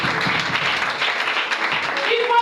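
A church congregation applauds in a steady, dense wash of clapping mixed with raised voices and cheering, loud and close throughout.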